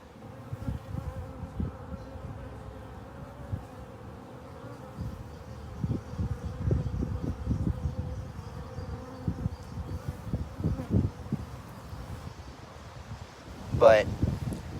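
Honey bees in a queenless hive, a faint, steady buzzing under softly spoken talk, with a brief louder burst near the end.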